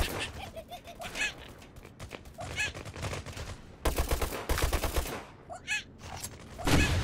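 Repeated heavy booming cannon shots in the video game Apewar, several bursts spaced across the stretch, loud and close, with smaller clicks and effects between them.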